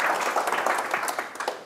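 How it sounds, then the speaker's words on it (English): An audience gives a short burst of applause to a panel at a public discussion about the EU referendum, a close, crackling clatter of hands that tapers off within two seconds. "Let's give them a round of applause just to get started."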